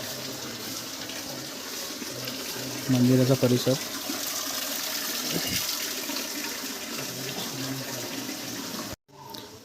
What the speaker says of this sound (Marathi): बघता गोमुखातून तिकडे पाणी येतं.